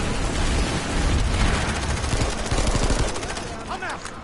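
Dense automatic gunfire from the online shooter PlanetSide 2 crackles continuously and loudly, rapid shots blurring into a sustained roar that thins out near the end.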